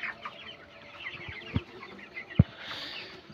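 Twenty-day-old broiler chickens on a poultry farm give soft scattered clucks and chirps against a low barn murmur, with a couple of sharper knocks, no talk.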